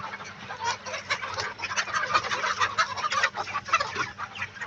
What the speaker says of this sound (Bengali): পাগল হয়ে গেছে মুরগিগুলো এখন সব